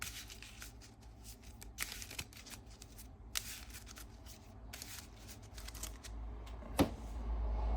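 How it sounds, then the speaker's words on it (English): A deck of game cards is riffled and shuffled at a table, giving quiet, close, crisp bursts of flutter and snapping separated by brief pauses. "Shuffle it up."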